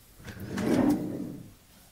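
A hotel nightstand drawer slides open in a single soft, close scrape-and-rumble lasting about a second in a quiet room.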